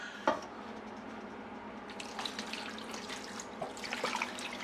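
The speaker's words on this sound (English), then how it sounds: "I put it into a plastic container now where I'm going to pour the brine onto it" Brine poured over pork chops in a plastic container, a quiet, steady watery trickle with a few soft splashes and sloshes.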